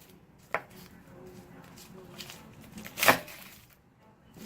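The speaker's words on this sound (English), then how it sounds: "What I usually do is I just cut it in half like this" A knife cutting a garlic clove in half on a board, with a sharp knock and then a louder chop a few seconds later, close and otherwise quiet.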